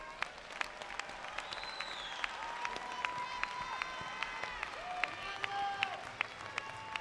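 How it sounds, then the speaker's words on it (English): Graduates in a large hall at a fall commencement ceremony applaud their faculty and staff, sustained crowd clapping with scattered sharp claps and a few faint voices and tones mixed in. "Graduates, please stand and join me in a well-deserved round of applause"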